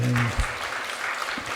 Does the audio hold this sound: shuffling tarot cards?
no